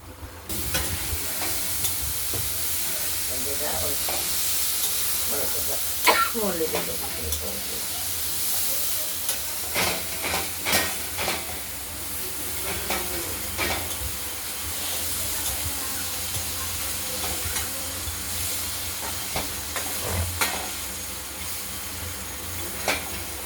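Bitter gourd and pumpkin frying in oil with a mustard seed tempering, stirred in a pan: a steady hissing sizzle broken by intermittent scraping and clinking strokes of the spoon.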